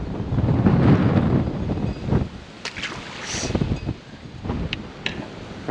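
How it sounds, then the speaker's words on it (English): Strong wind buffets a fishing boat on the water, loud gusty roaring and microphone rumble that peaks early and then eases into lighter gusts with scattered knocks and splashes. "the wind is cooking."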